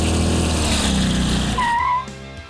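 A Chrysler 300 doing a burnout, engine revving hard with tires spinning for about two seconds, a tire squeal rising near the end before the roar drops off.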